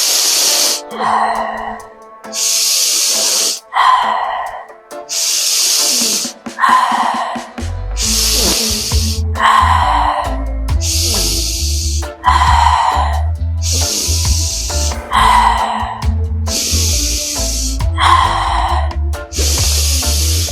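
Rapid DMT breathwork breathing: fast, forceful rhythmic inhales and exhales close to the microphone, sharp hissing bursts in a steady pattern, with a low droning music bed joining partway through.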